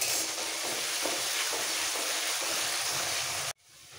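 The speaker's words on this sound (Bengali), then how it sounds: "পেঁয়াজটাকে একটু হালকা ভেজে নেব।" Onion fries in oil in a pan while being stirred, a loud, dense, continuous sizzle with faint stirring scrapes. It cuts off abruptly near the end, leaving a quieter hiss.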